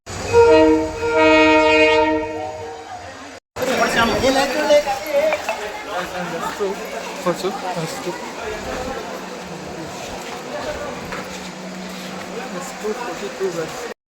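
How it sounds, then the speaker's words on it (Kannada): A train pulls into a station, sounding a long loud horn, then its carriages rumble and clatter past amid platform bustle and voices. "ಟ್ರೈನ್ ಬಂತು ಗೈಸ್."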